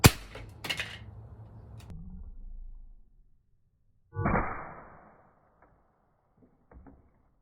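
An air gun fires a destroyer pellet point blank into a carbon fiber panel: a sharp crack, then a second short impulse, a faint rumble, and another brief burst near the middle, with quiet gaps in between.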